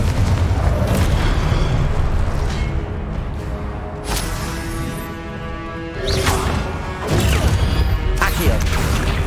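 Explosive spell blasts in Hogwarts Legacy, loud booming bursts around 4 and 6.5 seconds over a dense, continuous wash of game effects and battle noise.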